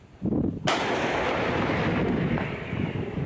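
A single powerful blast from a Krab tracked self-propelled howitzer's 155 mm gun, sharp and very loud, followed by a long rumbling roar that rolls on for seconds.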